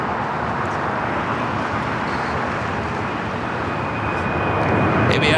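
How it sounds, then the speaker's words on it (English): A converted Boeing 767 cargo jet of AVX Air takes off at LAX, its engines a steady, loud broadband roar that holds throughout with a faint rising whine near the end. "AVX Air, the converted 767 taking off, heading to Cincinnati."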